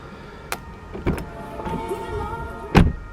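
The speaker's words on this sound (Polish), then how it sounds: "jak się wszędzie drzwi zamykają" Doors of a high-mileage Audi A8 (332,000 km), with no soft-close assist, swinging shut by themselves, giving several soft thuds and a firmer slam near the end over a low background hum.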